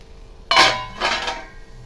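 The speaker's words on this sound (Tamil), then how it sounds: "இப்போ மூடி போட்டு மூடிடலாம்" A metal lid is set down onto a paniyaram pan while rava paniyaram cooks, giving a sharp clatter and then a second softer clink, close and loud, with no one speaking.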